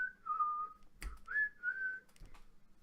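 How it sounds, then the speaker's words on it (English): A jolly, happy whistled melody in soft, sliding phrases, close and fairly quiet, broken by a couple of brief knocks. "you guys wake to the soft kind of tilt of a whistling tune"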